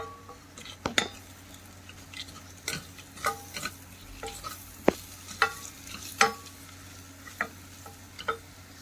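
Khuska rice mixture being stirred in a pot after garam masala powder goes in, with a soft sizzle under a dozen or so sharp scrapes and clinks of a spoon against metal at uneven intervals.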